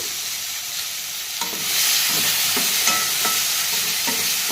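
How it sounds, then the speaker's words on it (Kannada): Chopped tomatoes hit hot oil and are stirred in a pan for a brinjal palya, a strong hissing sizzle that swells partway through, with regular soft scrapes of a spatula, close and without speech. "ಕಟ್ ಮಾಡಿ ಇಟ್ಟಿರುವಂತಹ ಎರಡು ಟೊಮೆಟೊ ಹಣ್ಣನ್ನು ಹಾಕಿ ಅದನ್ನು ಮಿಕ್ಸ್ ಮಾಡಿಕೊಳ್ಳಿ"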